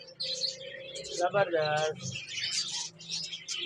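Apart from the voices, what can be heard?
cockatiels chirping in a bird shop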